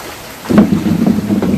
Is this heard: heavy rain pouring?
yes